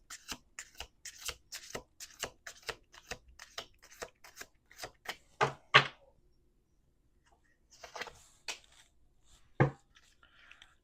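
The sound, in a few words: tarot cards being shuffled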